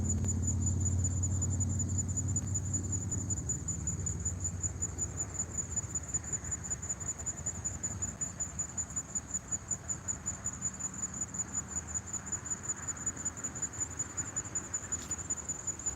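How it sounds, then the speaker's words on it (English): Crickets chirping loudly at night beside a carp-fishing spot, a dense, continuous high-pitched trill pulsing rapidly and evenly throughout, with faint low rumble beneath and no talking. "it's crickets, it's not your house."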